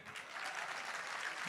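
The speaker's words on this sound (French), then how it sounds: "est-ce qu'on peut encore applaudir les bachelors" Steady applause from an audience, dense clapping that fills the whole stretch without pause, fairly quiet and even.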